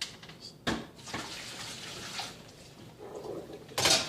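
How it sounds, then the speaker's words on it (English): Water poured from a container down a sink drain, a splashing rush with a sharp gurgling burst near the start and another at the end, heard alone. "we're now going to dump this water down the drain"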